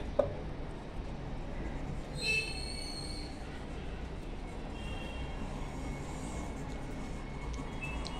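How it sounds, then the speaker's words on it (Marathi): Mixer grinder grinding soaked poha into a fine batter, a steady dense motor whir with a whining high edge running unbroken throughout, close and even, with a brief click at the start and no speech. "आता आपण पोहे सुद्धा बारीक असे वाटून घेऊया।"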